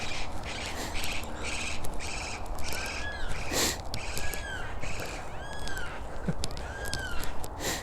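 A hobby collection of birds kept near a farm squawks and caws in a busy, repeated chorus of harsh calls at close range over steady outdoor background noise.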